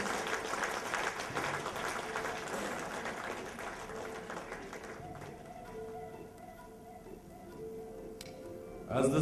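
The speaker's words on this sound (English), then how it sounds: "I request a great applause" An audience at a brand launch breaks into sustained applause, a dense wash of many hands clapping that carries on for several seconds before thinning out, with faint voices mixed in.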